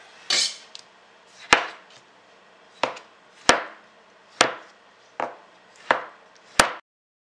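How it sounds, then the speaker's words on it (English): A knife cuts tomatoes on a board for a spicy Italian tomato sauce, giving seven or eight crisp, evenly spaced chops with soft squishing between strikes, close and clear with no voice. "I'm going to start cutting up the tomatoes and sticking them in the pot"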